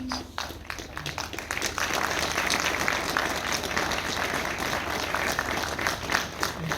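Audience applause at an event honoring an Indian Army partnership for snow leopard protection in Ladakh, a dense sustained round of clapping from a sizable crowd, steady and fairly distant throughout.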